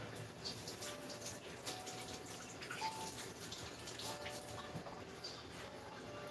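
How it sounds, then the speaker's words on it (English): Hands rinse under a running kitchen tap, a soft, steady stream of water splashing quietly at a distance with faint clinks in the background. "let me rinse my hands off"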